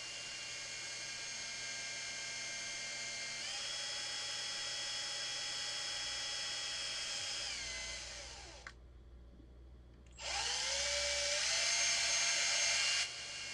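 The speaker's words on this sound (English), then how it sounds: "But we need to drill more carefully." Power drill boring holes, a steady high whine running for several seconds, cutting out briefly, then spinning up again for a shorter run, with no talking.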